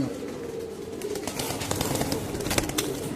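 Racing line pigeons, including a silver line hen, coo repeatedly in a loft, with soft throaty calls and fluttering over a steady background hum.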